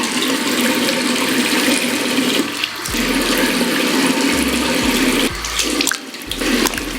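Tap water runs in a steady, fairly loud rush while a homemade face mask is washed off at a sink, with a few short dips and breaks as hands move under the stream.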